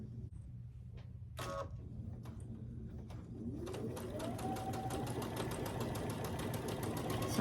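Sewing machine chain piecing quilt pieces, starting after a few soft clicks and handling noises, then settling into a steady, faint, rapid stitching rhythm that continues to the end.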